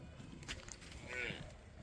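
A large, heavy-framed milking water buffalo on a farm gives a faint, low moo partway through, set against quiet background farm noise.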